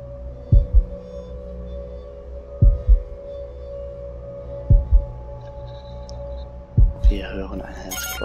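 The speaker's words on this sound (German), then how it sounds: "Wir hören ein Herzklopfen." In the video game Observer, a slow heartbeat of doubled low thuds repeats roughly every two seconds over a constant droning hum, with a short burst of higher game sounds at the end.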